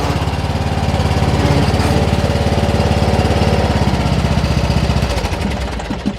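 A riding lawn mower with a 38-inch deck runs close by with a loud, steady, throbbing engine drone that eases slightly near the end.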